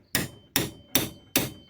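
A hammer strikes a small eye drift punch to drive the center wedge into an axe head, four sharp metallic blows at an even steady rhythm, loud and close.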